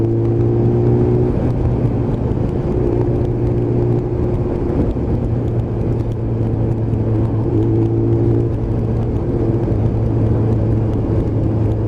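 A motorcycle being ridden out on a countryside run, its engine droning steadily and loudly close by with a sustained hum and slight swells as it is revved, running continuously with no speech.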